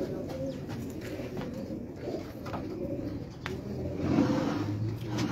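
Pigeons coo steadily on a rooftop loft in Karachi, low throaty calls repeating near at hand over a faint background hum with occasional distant traffic.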